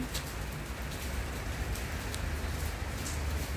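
Heavy rain falls in a dense, steady hiss outside, with occasional nearer drips and splashes where water is pooling with no drain.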